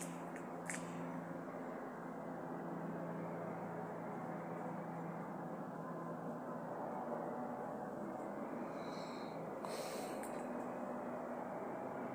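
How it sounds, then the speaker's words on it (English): An airplane passing overhead gives a steady, distant broadband rumble that holds evenly throughout, with a few brief higher sounds breaking in near the start and near the end. "The plane is passing."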